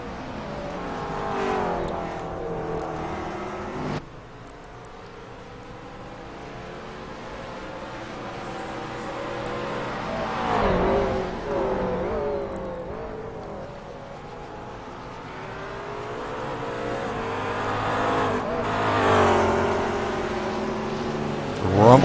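Race cars in a rolling green-flag start for a 90-minute race, a McLaren among them, rev and accelerate in a loud, sustained engine roar, the pitch sweeping up and down as the field surges past.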